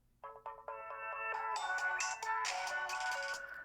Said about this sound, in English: I got another phone turning on, and it's got that, ooh, those nice classic Samsung boot up sounds.